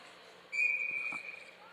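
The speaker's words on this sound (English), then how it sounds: "Lavoie skates off, and we have a whistle." A referee's whistle shrills steadily for about half a second over the murmur of an ice hockey rink during a junior women's league playoff game, with faint crowd and rink noise underneath.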